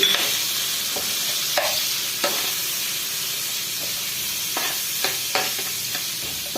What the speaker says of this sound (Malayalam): ആവശ്യത്തിന് ഉപ്പിട്ട് ഒന്ന് ഒന്ന് വഴറ്റി